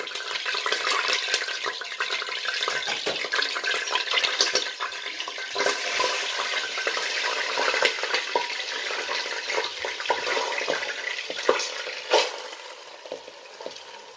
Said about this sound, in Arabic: هاي السمنة جاهزة كمان مشان نزل الرز